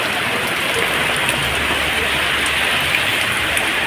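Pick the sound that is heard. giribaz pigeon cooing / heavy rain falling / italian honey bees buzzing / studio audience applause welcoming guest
heavy rain falling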